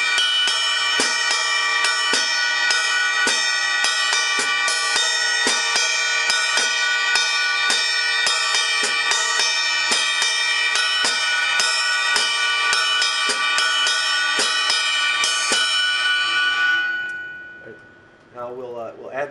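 A steady mambo ride pattern played on the bell of a drum-set ride cymbal, bright ringing pings in a fast repeating rhythm, loud and alone, stopping near the end.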